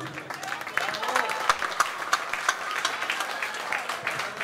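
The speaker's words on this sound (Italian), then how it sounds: "Vorrei fare un applauso anche al pianista." An audience applauds the pianist at a live show in Jesolo. Steady crowd clapping carries a few sharper rhythmic claps near the front, with voices faintly underneath.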